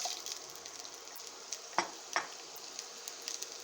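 Chopped onions frying in about a tablespoon and a half of oil, with a steady soft sizzle and a few sharp stirring clicks of a utensil against the pan.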